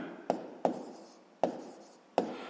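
Chalk or pen writing a sixth-grade math exercise on a board or paper, four sharp taps each followed by a soft scratching trail, close and faint, with no talking.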